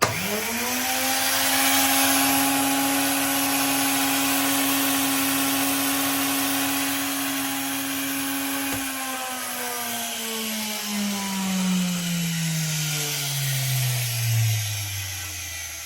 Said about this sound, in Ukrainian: схему, за допомогою якої можна перевірити роботу колекторного електродвигуна